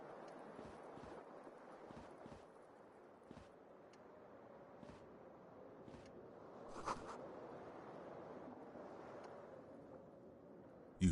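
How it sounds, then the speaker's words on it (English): Keys jingle and clink softly in a trouser pocket in the video game Disco Elysium, a faint repeated rattling over a low ambient hum with a sharp knock at the end. "Keys are clinking in the pocket of your flare-cut pants."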